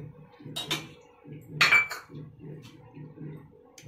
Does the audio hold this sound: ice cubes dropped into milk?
yes